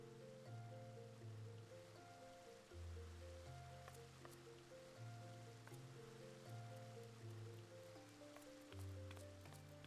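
A waterfall inside a player house in the video game Final Fantasy XIV gives off a soft, steady rushing wash. It sits quietly beneath gentle background music that continues throughout.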